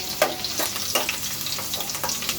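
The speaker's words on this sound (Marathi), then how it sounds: "तर तेल थोडंसं तापताच आपण यामध्ये जिरा टाकलेला आहे." Cumin, whole spices and crushed garlic fry in hot oil in a kadhai, a continuous close sizzle broken by sharp crackling pops and bursts of spattering at irregular intervals.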